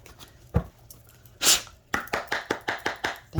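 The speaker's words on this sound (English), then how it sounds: "Oh, this deck is not easy to shuffle in this manner." A tarot card deck being shuffled in the hands, a quick run of crisp riffling taps after a few scattered flicks and one broad burst of card noise, close up and fairly quiet.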